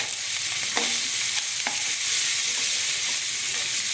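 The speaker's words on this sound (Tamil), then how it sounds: "ரெண்டு வெங்காயம் நாலு பச்சை மிளகாய் இதெல்லாம் வதங்கிட்டோம்" Onions and green chillies sauté with salt in oil for mutton kurma, giving a continuous loud frying hiss with a few soft stirring scrapes, no one speaking.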